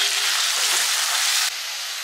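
Onions dropped into a hot pan fry with a loud, broad, steady sizzle that drops slightly in level partway through.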